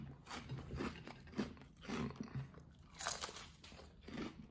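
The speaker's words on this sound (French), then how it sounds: "ça fait tellement longtemps que j'ai pas mangé de miel pop" Miel Pops honey cereal is crunched and chewed up close, with repeated crisp bites and munching in a quiet setting and no talk.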